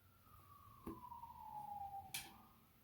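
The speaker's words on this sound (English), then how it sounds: "You hear that siren?" Siren on an emergency vehicle passing outside, heard faint and distant as a single drawn-out wail that slowly falls in pitch, with no talk over it.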